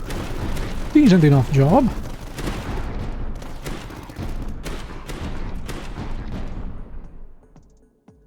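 Mortar fire and explosions in the strategy game Tower Dominion, a series of sharp booms and bursts scattered over several seconds, moderately loud, with someone talking over them near the start.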